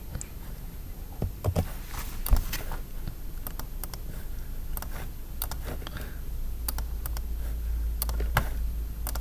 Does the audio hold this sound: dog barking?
no